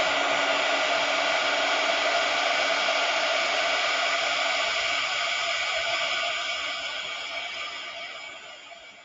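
Steady, loud whoosh of a heat gun blowing hot air onto shrink plastic for a craft project, a continuous airy roar that holds evenly before slowly fading toward the end.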